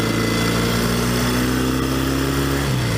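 A vintage 1964 Royal Enfield Interceptor Mk1 motorcycle engine runs steadily and close by, a continuous buzzing drone with a slight pitch drop near the end, and nobody speaks.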